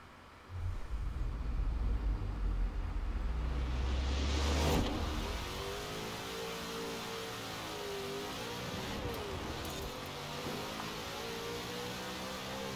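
Upgraded cars drag racing in Forza Horizon 4, a loud engine roaring and revving hard off the line, then settling into a steady high whine as the car speeds away, with no talk.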